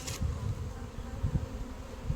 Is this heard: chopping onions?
no